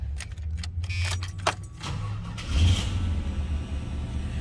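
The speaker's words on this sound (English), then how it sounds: "we're gonna fire this up so you can hear it run." Keys jangle near a 1980 Pontiac Bonneville Brougham with an LT1 engine, then it cranks and settles into a loud, steady low idle rumble close by.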